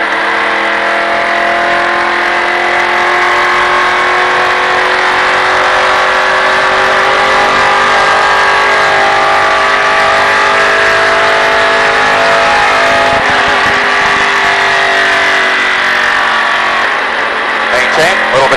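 A race car engine held at a steady, loud, close drone, easing slightly in pitch over the stretch, with a brief sharper rise near the end.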